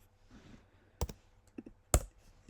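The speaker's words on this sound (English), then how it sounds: "I'm going to press C." Single key presses on a computer keyboard while editing in Premiere Pro, heard as a few sharp, close clicks spaced apart in an otherwise quiet room.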